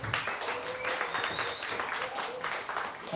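An open-mic comedy audience applauds a comedian's finished set with steady, moderately distant clapping that continues evenly for a few seconds.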